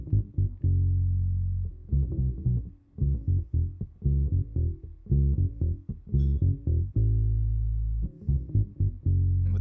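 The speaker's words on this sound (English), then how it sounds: "But then the bass guitar, I really made deeper and just kind of more like sloppy, rolling back and forth sort of thing." Deep, sloppy bass guitar line from a song mix, rolling back and forth in loud low plucked notes with short gaps, played alone in a steady rhythm.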